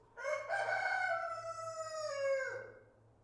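A rooster crows once, loud and near, in a single long drawn-out call that falls off at the end. A faint low rhythmic hum sits underneath on a cold, snowy day at an outdoor shop build.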